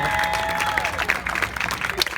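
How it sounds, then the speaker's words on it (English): Wedding guests at an evening reception clap steadily throughout, a dense, fairly close patter of applause with a faint voice underneath. "Give a round of applause for that."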